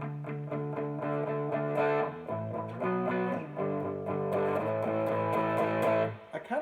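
An electric guitar plays through an MXR Distortion+ pedal set for slight breakup, strumming a short chord progression with a mildly crunchy edge and the notes ringing close and clear.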